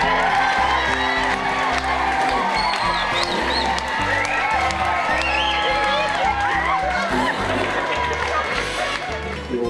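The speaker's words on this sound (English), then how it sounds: "Lots of cheering." Crowd at an equine expo cheering, whooping and applauding loudly and continuously, with shouts rising over steady clapping and a thudding rhythmic beat underneath throughout.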